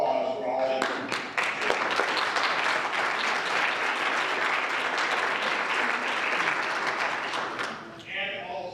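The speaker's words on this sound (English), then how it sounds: "I think we should all give you a round of applause for all that you do." A keynote crowd at a large forum claps in a long, full round of applause that starts with a few sharp claps, swells into a dense roar and fades out near the end.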